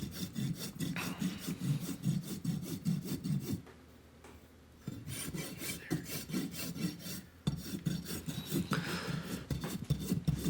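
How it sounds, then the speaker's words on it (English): A farrier's rasp files down an overgrown horse hoof in steady, rhythmic rasping strokes, close and coarse, broken by two brief pauses. "when I rasp, my rasp stays on the hoof"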